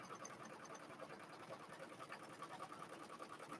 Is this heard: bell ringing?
no